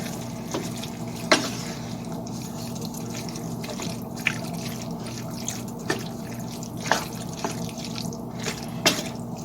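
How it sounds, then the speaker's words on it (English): Chili con carne with a bay leaf simmers in a covered pot, giving sparse faint pops and drips over a steady low hiss. "you're supposed to cover it and let it simmer for an hour"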